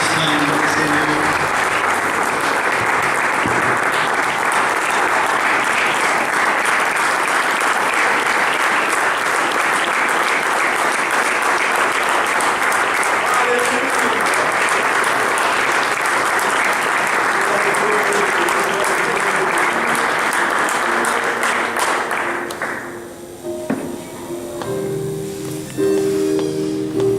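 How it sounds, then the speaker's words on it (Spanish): Loud, sustained clapping from a large church congregation rolls on for over twenty seconds before tapering off into quieter room sounds. "Le damos un fuerte aplauso al Señor."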